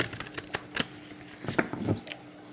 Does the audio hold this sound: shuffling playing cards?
yes